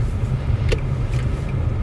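A car being driven on the road, a steady low engine and road rumble continuing throughout with a couple of brief higher clicks or taps, no talking.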